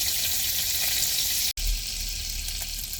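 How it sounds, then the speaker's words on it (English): Butter sizzles loudly and steadily in a pan as flour goes in to start a roux, a dense continuous frying hiss broken by a momentary cut partway through. "what I'm going to do now is add some flour to the butter that's cooking so I can start the roux"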